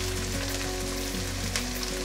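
Potatoes sizzle steadily in a pan, placed in one by one to fry, a continuous close crackle with no pauses and no talk.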